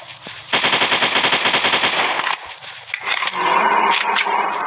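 A gun in the mobile dinosaur-hunting game Zoo Sniper 3D fires a loud, rapid burst of shots lasting a couple of seconds, followed by rumbling, scraping game effects.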